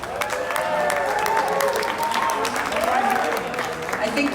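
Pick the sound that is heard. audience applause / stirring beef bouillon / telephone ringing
audience applause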